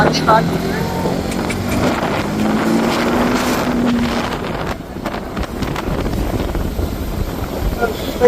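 A sport bike ridden fast in sport mode gives a steady, loud engine roar buried in heavy wind buffeting on the microphone, continuous throughout with no clear gear changes.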